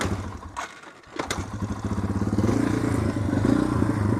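A Yamaha TW200 dirt bike engine with a stock, nearly unbaffled exhaust idles and revs with a rough, throaty exhaust note, steady and close, after a brief dip and a couple of sharp clatters.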